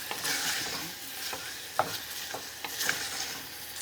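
Onions caramelizing in a frying pan hiss and sizzle steadily while a utensil stirs them, giving several soft scraping strokes and light clacks against the pan, close up and with no talk.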